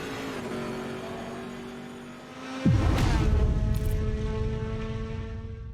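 A race car engine drones at high revs on a lap of the Kyalami Grand Prix circuit, then a sharp gear change kicks into a louder, rougher roar that holds steady to the end, with no voices.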